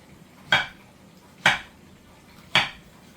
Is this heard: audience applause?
no